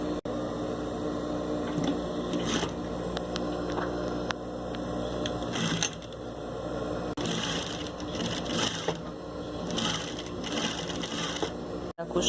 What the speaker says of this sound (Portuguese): eu vou começar uma costura a partir daqui e vou contornar, fazer todo o contorno dessa toalha